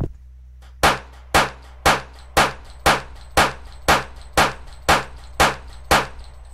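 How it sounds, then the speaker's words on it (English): Pistol shots in a Unity FPS game test, eleven sharp, identical synthetic cracks fired at an even rate of about two per second, each decaying quickly against a low steady hum. "So we've got our pistol animating and shooting."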